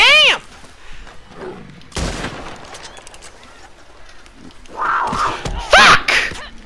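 Gunfire in the Red Dead Online video game, with sharp loud shots at the start, near the two-second mark and in a busy burst near the end, mixed with honking animal-like calls and a voice shouting.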